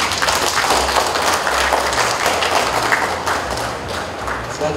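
Sustained, dense clapping from an audience fills the room at a legislative candidate registration event at the West Papua election commission office, steady and loud throughout with a slight easing near the end.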